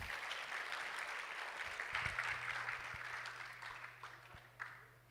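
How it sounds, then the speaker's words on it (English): Audience applause for award winners at a livestreamed tech conference in Mumbai, a moderately faint, steady wash of clapping with a low background hum and no speech. "Let's give them a big round of applause again."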